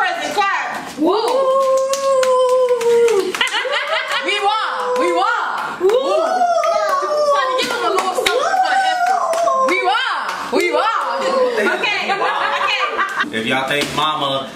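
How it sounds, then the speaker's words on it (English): Family clapping and cheering at home to vote in a gift wrapping contest, scattered claps under loud excited talking, laughter and children's voices. "If y'all vote for Domi's present, clap."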